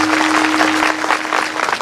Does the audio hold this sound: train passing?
no